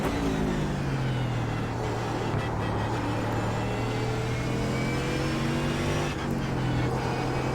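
A race car in the iRacing sim drives a GP circuit toward a final chicane, its engine droning loud and steady in close cockpit view, pitch sliding gently as revs shift, with a brief dip near the end.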